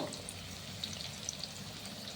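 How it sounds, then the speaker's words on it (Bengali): Onion-stalk pakoras sizzle in hot oil in a wok, a steady close crackling hiss with scattered brighter pops and spits. "কড়াইতে তেল গরম গেছে, এখন একটা একটা পকোড়া ছেড়ে দিচ্ছি"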